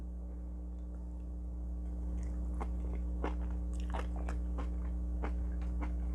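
Someone eats zucchini noodles in Alfredo sauce close up, with soft wet bites and chewing in an irregular run over a steady low hum and no talking.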